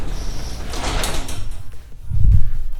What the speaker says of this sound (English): I'm going to close the garage door before I get carried away.